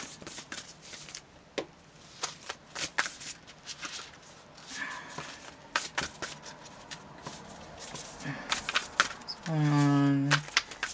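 Thick tarot cards handled and shuffled on a table, with a steady run of close papery flicks and riffles, soft taps and shuffling, then a brief tonal hum near the end.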